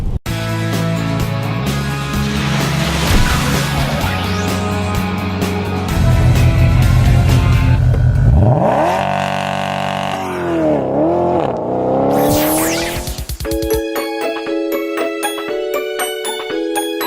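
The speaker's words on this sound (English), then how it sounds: "nothing like getting a little bit of front wheel spin" 2013 Mitsubishi Outlander Sport accelerating hard from a standstill with brief front wheel spin, engine droning and rising through gears with pitch sweeps, loud and close, then a steady whine near the end.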